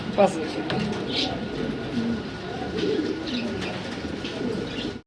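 Pigeons cooing inside a loft, with soft, repeated low coos and the occasional flutter close by, while someone talks over them.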